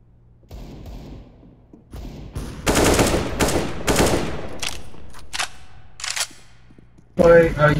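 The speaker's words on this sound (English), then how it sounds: "Why are you shooting?" Gunfire in an online multiplayer shooter, bursts of rapid automatic shots and scattered single cracks coming and going, loud and close, with a voice speaking over the shooting near the end.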